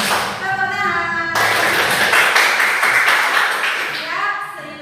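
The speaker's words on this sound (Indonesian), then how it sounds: "Tepuk tangan." Students in an Indonesian classroom clapping hands together, a short burst of dense, close applause that rises and fades, with a teacher's voice before and after.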